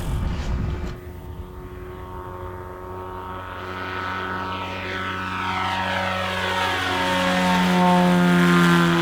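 A PD-2 fixed-wing drone with a propeller engine takes off: after a sharp burst at the start, a steady engine drone with strong harmonic tones holds, then climbs in pitch and grows louder toward the end, alone without voices.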